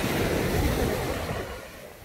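Sea waves wash onto the shore at Muro Beach, Mallorca, in a steady broad surf rush with some wind. The roar is loud at first and eases slightly toward the end, with no voices.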